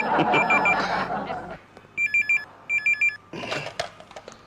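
A telephone rings twice in trilling electronic bursts, with people talking before and after the rings.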